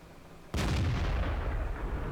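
A World of Tanks gun fires abruptly from silence, with a single loud, close boom that rolls into a long rumbling decay and no talk over it.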